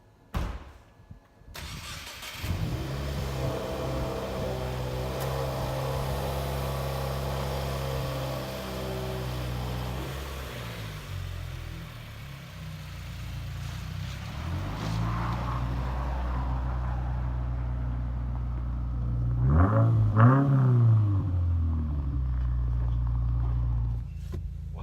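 2018 Subaru WRX with a Nameless cat-back exhaust starting up, then a steady deep idle that swells into revving as the car pulls away and drives, close and fairly loud, with no talking.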